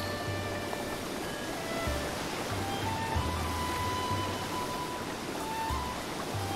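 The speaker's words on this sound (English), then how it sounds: "Can I swim up this waterfall?" Steady rushing water from a waterfall in The Legend of Zelda: Breath of the Wild, a continuous broadband roar at moderate level with faint game music tones layered over it, no voices.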